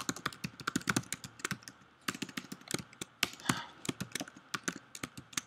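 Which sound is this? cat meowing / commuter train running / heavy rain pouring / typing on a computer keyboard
typing on a computer keyboard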